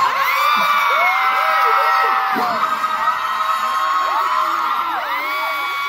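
A packed crowd of fans at a Lee Min Ho fan meeting in Manila screams and cheers, with loud, continuous high-pitched shrieks and whoops that rise and fall over the whole stretch.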